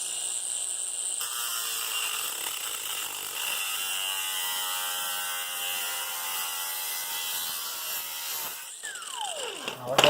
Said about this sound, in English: Just cut it with a cordless grinder and bend it and break it.